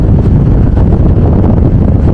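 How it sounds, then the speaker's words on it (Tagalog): Strong wind on the Casiguran–Baler road in Aurora, Philippines roars and buffets the microphone continuously, a loud, dense rumble with no pauses. "Lakas ng hangin, grabe"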